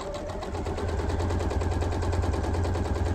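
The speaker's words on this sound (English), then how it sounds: "I like to keep my needle in the down position as I sew, especially when I'm chain piecing" Sewing machine running steadily while chain piecing quilt squares with the needle kept down, a fast continuous rattling hum, close and loud throughout, no talking.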